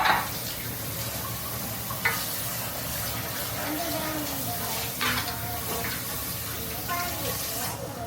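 Pieces of beef fry in a hot pan, a steady close sizzle with scraping stirs and a few louder knocks, while voices are faintly present underneath.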